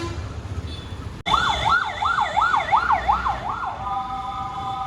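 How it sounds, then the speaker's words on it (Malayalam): An ambulance siren wails in a rising and falling pattern on a street near a temple and mosque in Kanchipuram, loud and close as it passes over steady road noise, then switches to a steady tone before fading out. "ആംബുലൻസ് പോകണൊക്കെ ഉണ്ട്"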